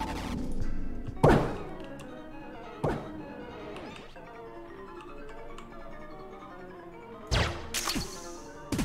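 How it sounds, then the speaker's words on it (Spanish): Shots and breaking targets ring out in the Enter the Gungeon shooting gallery mini-game: a few sharp impact thunks spaced seconds apart over a quieter game background, with a quick cluster near the end. "Para jugar este juego tienes que romper las dianas en cierto número de disparos."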